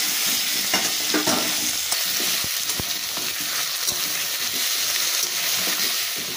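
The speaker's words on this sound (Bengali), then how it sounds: "আলু আর পেঁয়াজ দুটো একসঙ্গে খুব ভালো করে ভেজে নেব" Potatoes and onions frying together in a pan while being stirred, giving a steady, close sizzle broken by scraping strokes and light clinks from the spoon throughout, with no talking.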